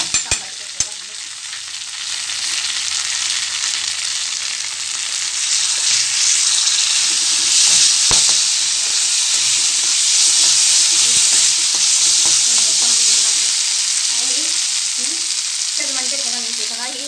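Potatoes frying in a pan with tomato ketchup for a chilli potato dish, sizzling steadily and loudly while being stirred, with occasional scraping knocks of the spoon and a faint voice toward the end.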